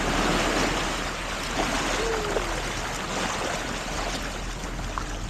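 Sea waves wash onto the shore in Malé, Maldives during a rainy flood, making a steady broadband surge. It sounds close and continuous, with no voices.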